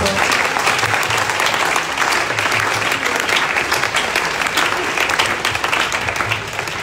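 A church congregation applauding steadily and loudly, sustained clapping throughout with no breaks.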